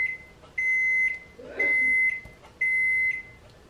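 An oven signals it is ready with three clear electronic beeps, each about half a second long and evenly spaced, close and alone over a quiet room.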